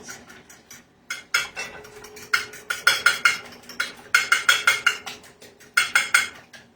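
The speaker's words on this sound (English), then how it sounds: "I guess I should have grabbed a fork so I could mix these babies up" A metal fork stirs and clinks against a bowl while mixing mac and cheese balls, sounding in bursts of quick rhythmic scraping taps with short pauses between, close by and with no talking.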